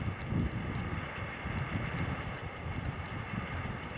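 Wind turbine blades whoosh in winter wind, a continuous broad rushing noise with low rumbling gusts throughout, moderately loud and steady with no voices.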